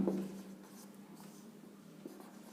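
A pen scratches out writing on paper or a board during a maths lesson, faint soft strokes heard close and alone for a couple of seconds.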